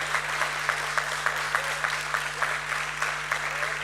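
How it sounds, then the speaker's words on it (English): An audience applauds at a stock exchange listing ceremony, a steady patter of many hands at moderate distance over a constant low hum, with a voice faintly mixed in. "Can we have another loud round of applause"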